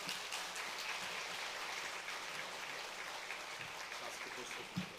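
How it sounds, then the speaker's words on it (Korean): Church congregation claps warmly to welcome a visiting preacher, a steady wash of applause at moderate distance with faint voices underneath. "뜨거운 박수로 우리 모시도록 하겠습니다"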